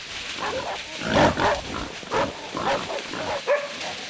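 A wild boar flees from five hunting dogs in a frozen winter forest, with grunts and squeals mixed with excited barking and yelps coming in irregular bursts at close range.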